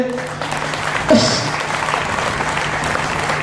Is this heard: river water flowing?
no